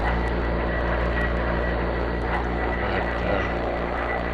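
An OV-10 Bronco's engines drone on without a break in the DCS video game, a loud, steady propeller roar with a low hum beneath it.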